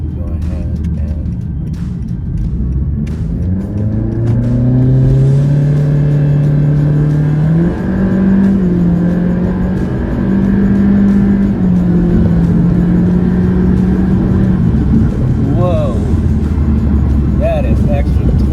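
A 2018 Honda Accord LX 10th gen fitted with a Ktuner accelerates hard from inside the cabin, the engine drone rising in pitch through the gears with a brief dip at a shift, loud and steady under a person talking.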